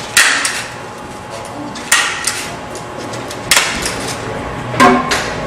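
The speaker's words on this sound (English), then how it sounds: "we want to put 6 staples in here so it doesn't come apart" A stapler drives staples through overlapped micropolishing film for a QPAC micropolishing system, giving four sharp, close snaps spaced a second or more apart over low background noise.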